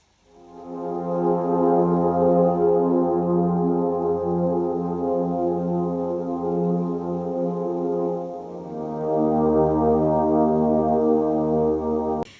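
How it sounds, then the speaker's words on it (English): Sustained ambient synth pad from Vital, shaped with EQ, holding a rich stack of harmonics as one steady chord, shifting to a lower chord about two-thirds through and playing alone and loud before cutting off. "I added an EQ to make the sounds more like a pad sounds"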